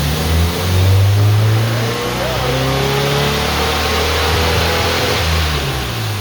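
A 1969 VW Bus engine revs hard toward redline, a loud, close engine roar that swells and holds high, with voices faintly audible beneath it.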